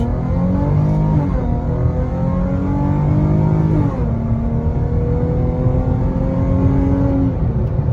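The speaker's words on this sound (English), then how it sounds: "mash the throttle and see how it goes" A 2019 Dodge Charger GT accelerates hard at full throttle, its engine roaring loud and close as the pitch climbs steadily, drops at a gear change, then climbs again.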